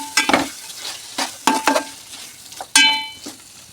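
Spices stirred into chicken frying in a pan for pala kodi pulao, with several sharp scraping strokes of a spoon against the pan over a soft sizzle and a few metallic clinks.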